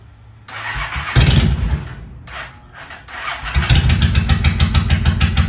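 A 2001 Honda Shadow 750 ACE motorcycle cold-starts on a chilly day: the starter cranks, the engine stutters and catches, dips briefly, then settles into a loud, steady, rumbling idle close by.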